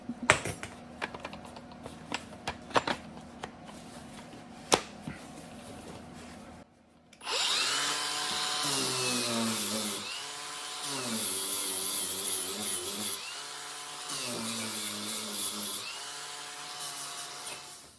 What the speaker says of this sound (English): now I can grind that down a little bit